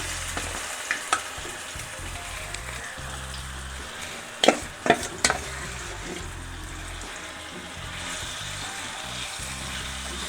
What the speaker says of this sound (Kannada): ಇನ್ನೊಂದು ಪ್ಯಾನಲ್ಲಿ ಒಂದು ಸ್ಪೂನ್ ಎಣ್ಣೆ ಇವಾಗ ಈ ಮಶ್ರೂಮ್ನ ಎಣ್ಣೆ ಒಳಗೆ ಫ್ರೈ ಮಾಡ್ಕೊಳ್ಳೋಣ